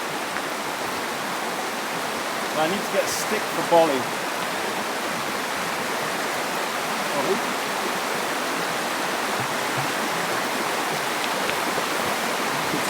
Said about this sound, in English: Listen to the sound of the river.